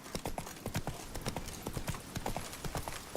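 Roach the horse gallops in The Witcher 3, hooves drumming in a quick, steady clip-clop rhythm, close and moderately loud, with no voices over it.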